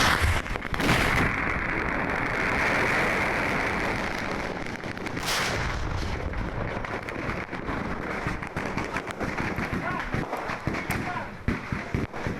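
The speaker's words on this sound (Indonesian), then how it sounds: "puluhan ribu petasan yang disita dari sebuah rumah ini diledakkan di lapangan tembak Kodim di Jalan Kapten Syafiri, Bangkalan, Madura" Tens of thousands of seized firecrackers are detonated on an army firing range in Bangkalan, Madura, producing a dense, loud roar of rapid crackling bursts that thins into scattered pops, with a reporter talking over it.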